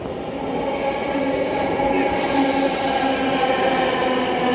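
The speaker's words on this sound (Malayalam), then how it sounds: "മെട്രോ അതെ മെട്രോ വന്നിട്ടോ" A metro train arriving at a crowded station platform gives off a steady, loud rolling rumble with a faint rising hum, and voices murmur underneath.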